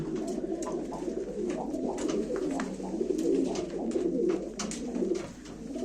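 Pigeons coo steadily at a live pigeon auction, a dense layer of overlapping low coos from several birds close by, continuous and fairly loud, with faint background clatter.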